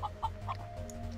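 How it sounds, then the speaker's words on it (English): A chicken clucks in the video game King Arthur's Gold, several quick clucks in a row over a steady low game background hum. "Are there animals? Chicken! Oh, there is."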